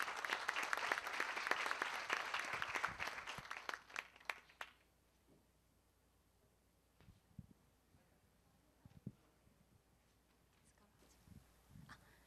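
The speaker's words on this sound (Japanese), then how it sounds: "皆さん盛大な拍手を持ってお迎えください" Warm applause from an audience at a speaker event in Japan as a kimono-clad speaker is welcomed, fading out after about four seconds into a quiet room with a few scattered knocks and shuffles.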